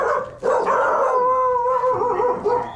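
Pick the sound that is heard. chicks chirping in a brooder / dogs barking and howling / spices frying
dogs barking and howling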